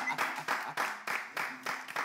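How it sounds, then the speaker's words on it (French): A studio audience applauds a guest comedian on a French-language talk show, bursts of clapping swelling and dipping in quick waves over about two seconds, fairly close and moderately loud, with voices mixed in. "Attention, applaudissez."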